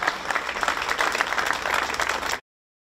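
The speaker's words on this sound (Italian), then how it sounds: "vi prego di salutare con un grande applauso" An audience claps in greeting for maestro Altan at an event, a brisk, full round of applause that stays steady and close before cutting off abruptly.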